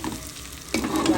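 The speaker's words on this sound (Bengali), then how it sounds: "আমার তেলাপিয়া মাছ, ছুরি মাছ একসাথে করে পেঁয়াজ দিয়ে ভুনা করছি" Tilapia and churi fish cook with onion in a pan, giving a short burst of frying sizzle that jumps louder partway through as the pan is stirred.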